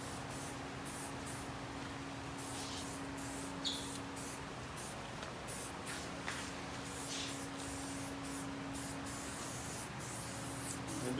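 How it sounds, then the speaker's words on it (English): Continuous hissing of leaf shine aerosol spray on a floral centerpiece in repeated bursts, close and steady, with a faint low hum underneath. "finish that with a little spray shine leaves to give it a little glare"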